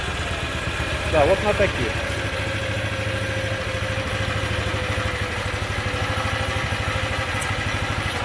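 An MB-6 walk-behind tractor with a 6-horsepower Z250 engine idles nearby in a steady, even chug, with a short spoken remark early on.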